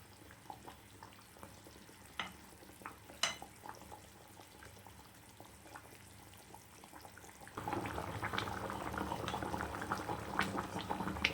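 Fish curry simmers and boils in a pot, with a steady soft bubbling and popping that grows noticeably louder and denser partway through, with no voices.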